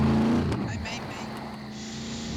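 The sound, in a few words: car driving in the video game SCUM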